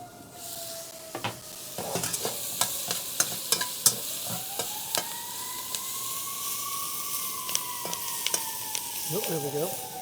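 Beef is stir-fried in a wok over high heat, giving a loud, steady sizzle. Sharp scrapes of stirring come through close up, and a faint voice is heard near the end.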